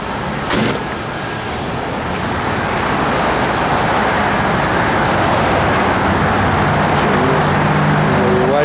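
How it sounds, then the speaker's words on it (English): Inside a 1980 Chevrolet Corvette, the blower motor fan rushes with a loud, steady airy whoosh that builds slightly and holds, with a faint click near the start. "blower motor works"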